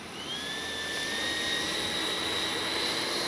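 Freewing F9F-8 Cougar RC jet's electric ducted-fan engine spooling up under throttle, a steady close whine with two rising tones climbing over a broad rushing roar, growing slightly louder throughout.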